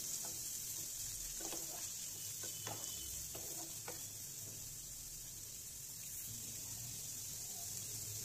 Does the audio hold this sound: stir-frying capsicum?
yes